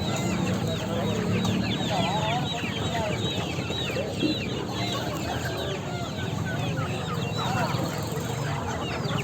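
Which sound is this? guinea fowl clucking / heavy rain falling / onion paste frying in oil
guinea fowl clucking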